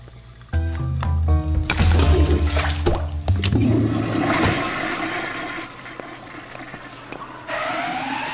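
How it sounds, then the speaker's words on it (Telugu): A toilet flushes loudly, opening with a burst of rushing water that fades into a gurgling refill trickle, heard alone without speech. "లెట్రిన్ లో పెట్టి నీళ్లు కొట్టిన చిటి"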